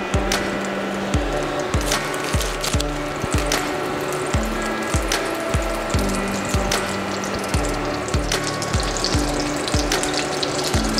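Salmon sautéing with onions in hot oil in a home-kitchen pan, a steady crackling sizzle running throughout with repeated sharp taps and scrapes from a utensil against the pan, close and fairly loud, no talking.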